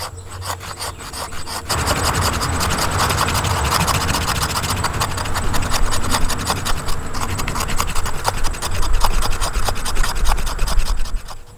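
A ferro rod is scraped steadily and repeatedly, making a loud, continuous rasping and grating sound. The rhythmic strokes run for about ten seconds after a short quieter start, and no voices are present.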